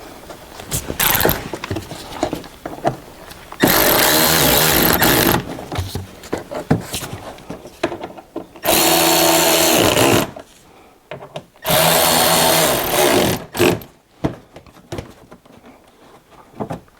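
Power tool driving small screws into an Audi Q7: several loud bursts of whirring drive lasting one to two seconds each, separated by clicks, rattles and handling noises at close range.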